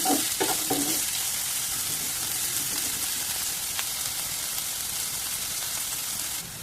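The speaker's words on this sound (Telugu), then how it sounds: "రెడ్ ఆనియన్స్ ఇవన్నీ కూడా ఇలా వేయించుకోండి." Red onions fry in a pan with a steady, even sizzle throughout, a few stirring scrapes near the start, close and moderately loud with no talking.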